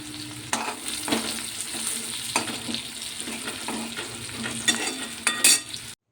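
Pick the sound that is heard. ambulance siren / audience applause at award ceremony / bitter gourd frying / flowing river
bitter gourd frying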